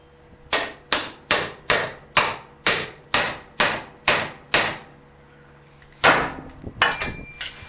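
A hammer drives a pickle fork to split a ball joint on a 1997 GMC Jimmy: ten evenly spaced, sharp metallic strikes, close and loud, then a pause and a few quicker, irregular blows.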